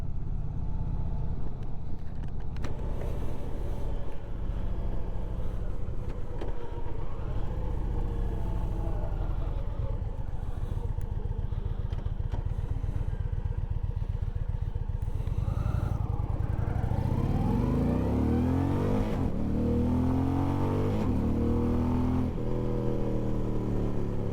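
An Indian Roadmaster motorcycle engine rumbles steadily while riding, with its pitch rising and falling as the throttle is worked and wind rushing past, close and continuous with no talking.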